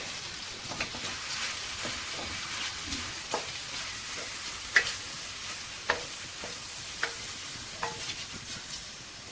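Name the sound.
cooked spaghetti being added and stirred into pesto in a pan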